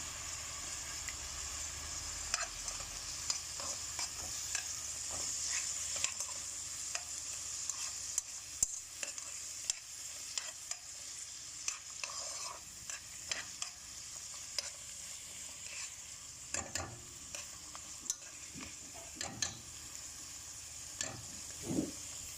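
Meat, onion, garlic and tomato paste fry together in a pan for a green bean stew, giving a steady close sizzle broken by frequent sharp clicks and scrapes of stirring, with no voices.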